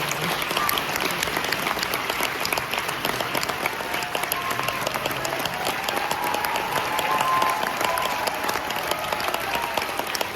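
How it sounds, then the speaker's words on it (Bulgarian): An audience claps in steady, dense applause at a Bulgarian cultural event, sustained at an even level throughout, with a faint murmur of voices beneath. "Аплодисменти!"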